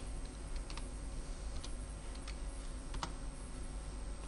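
Typing on a computer keyboard: a handful of light, scattered key taps over a faint steady hum, soft and close, with no voices.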